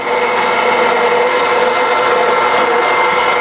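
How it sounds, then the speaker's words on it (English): An electric meat grinder works through cubed turkey with a constant loud, close whirring and grinding that holds steady from start to finish. "we're going to turn on the grinder, and then we're going to start putting the pieces of turkey"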